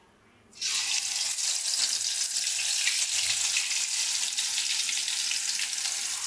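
Fresh sardines hit hot oil with a sudden loud sizzle after a brief quiet start, then fry in a steady, dense crackling hiss for several seconds, close up and with no talk.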